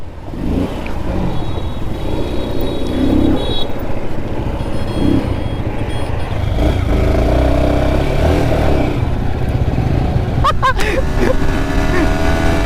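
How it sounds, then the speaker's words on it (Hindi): A new Bajaj Pulsar NS 200 motorcycle engine runs loudly and steadily close by, with broadband roar and some rising revs, under outdoor street noise and occasional voices. "देखो गाइस नई बाइक है, नई बाइक है।"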